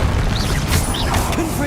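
Confringo blast spell in the video game Hogwarts Legacy, a dense booming explosion with rumbling low end and crackling debris filling the whole moment, loud and close.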